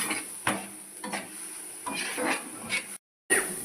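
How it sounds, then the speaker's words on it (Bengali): Pumpkin leaf paste with ground mustard and green chili being stirred in a pan, a series of soft scraping strokes with faint sizzling, near and fairly quiet, broken by a short silent gap. "সর্ষের সাথে কাঁচা লঙ্কাও দেব এরপর ভালো করে নাড়াচাড়া করতে হবে"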